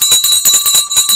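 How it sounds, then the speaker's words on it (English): A market closing bell rings in a rapid, continuous metallic clatter, loud and close, steady for the whole moment with no talking. "the bell."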